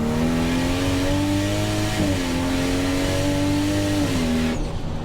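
A Toyota Supra sports car engine roars close and loud, pitch climbing steadily through the gears with brief dips at each shift, hard sustained acceleration on a national speed limit road.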